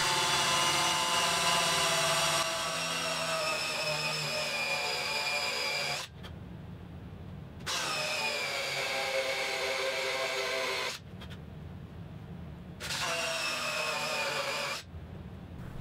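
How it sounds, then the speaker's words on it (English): A cordless drill with a 2 1/8-inch hole saw whines steadily while cutting through a wooden exterior door, stopping briefly twice and then starting again, loud and close with no talking. "drill through holes using a 2 1/8-inch hole saw"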